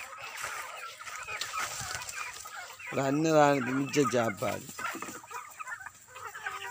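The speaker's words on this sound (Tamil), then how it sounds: "அந்த சண்டை பிடிக்குது பெரிய கோழி" Hens cluck and squabble over leftover food from a home almsgiving meal, with a burst of loud, close clucking in the middle and fainter fowl sounds around it, while people talk.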